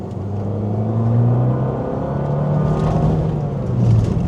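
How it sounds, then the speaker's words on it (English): A small, light car's exhaust drones steadily while driving, a low rumbling tone that swells and eases slightly with throttle, continuous and fairly close with no voices. "we are hearing all of the exhaust that our car possesses"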